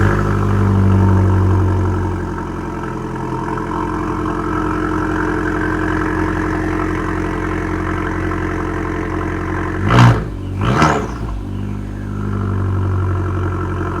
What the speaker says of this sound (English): when you start it up, it doesn't sound like a normal car